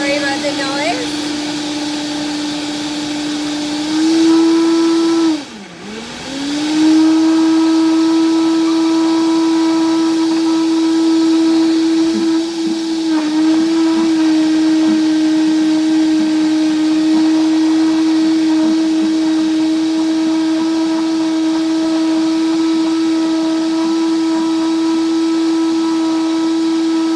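Blender whirs steadily as it mixes banana oat cake batter, a loud sustained motor whine that dips briefly in pitch, then holds a constant drone.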